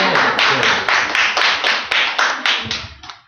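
A church congregation claps during a sermon in a burst of roughly a dozen fairly regular, close and loud claps that slow and fade at the end.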